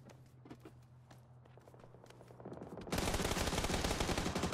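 Gunfire in PUBG on console, faint scattered shots at first, then a sudden loud, dense burst of rapid automatic fire that holds steady to the end.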